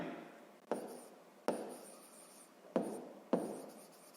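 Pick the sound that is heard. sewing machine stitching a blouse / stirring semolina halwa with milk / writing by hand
writing by hand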